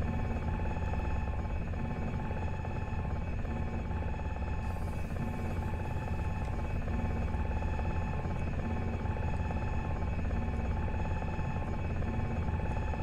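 A UH-60 Black Hawk helicopter in Microsoft Flight Simulator sets up a steady, droning rotor and turbine hum with layered tonal whine, constant in level throughout with no voices.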